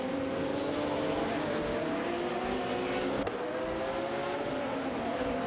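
Race cars, among them a Porsche 911 GT2, roar together in a racing video game, with a continuous loud engine drone and shifting pitch as several cars jostle closely, with a brief bump partway through.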